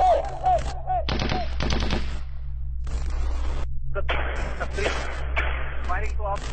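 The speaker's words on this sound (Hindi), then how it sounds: "फायरिंग तो आप सुन ही रहे होंगे" Gunfire rings out inside a mosque in loud, sharp bursts and rapid volleys, some shots echoing. The firing is mixed with raised voices.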